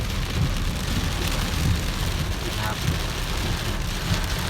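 Steady rain falls on a home's entrance driveway beside freshly planted grass, making a continuous, even hiss of drops with no pauses and no voices.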